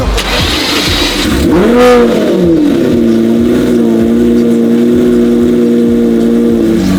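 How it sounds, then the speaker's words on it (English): A Lamborghini Murcielago engine cranks and fires up from cold with a sharp rev, then settles into a loud, steady, deep idle up close. "let's fire up the murcielago. Cold start, semi-warm start."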